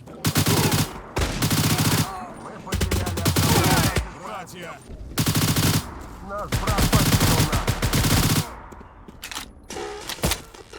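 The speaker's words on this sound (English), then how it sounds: "we can use this super sweet submachine gun" A 9mm submachine gun fires in the video game Stalcraft X: loud, close bursts of rapid automatic fire, several bursts separated by short pauses, with quieter thuds and clatter in between.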